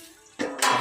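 Water splashing and sloshing as soot-blackened cooking-fire pots are scrubbed outdoors, close and fairly loud, in two quick bursts with a faint metallic clink.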